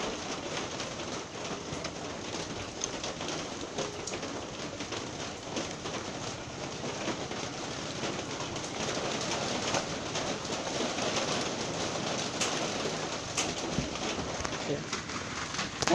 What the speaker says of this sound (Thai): ฝนตกที่บ้านของตาครับ